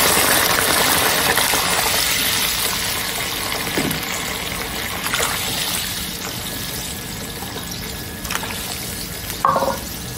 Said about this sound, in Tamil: 1 கப் ரவைக்கு நல்லா கொதிக்கிற சூடான தண்ணி